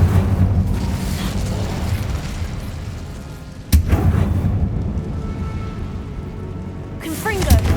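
A blazing Incendio fire spell cast in Hogwarts Legacy inside a tomb roars as a loud, sustained rushing blast, broken by a sharp crack midway before the roar continues and fades near the end.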